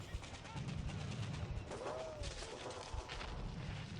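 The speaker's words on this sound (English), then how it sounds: "Is the gunfire looping?" Gunfire from the video game War in the Pacific: steady, dense battle noise that runs without a break through the whole stretch. It sounds like continuous distant shooting with scattered bangs. Other sounds sit underneath it.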